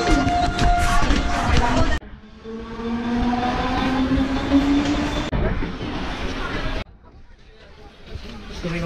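A loud train rumbles and screeches past at a Mumbai station with rising metallic whine and rolling noise, crowd chatter mixed in, then the sound drops off abruptly.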